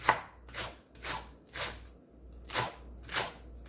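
A knife chopping green onion on a cutting board, with about eight crisp, evenly spaced cuts, close and fairly quiet, and no talking.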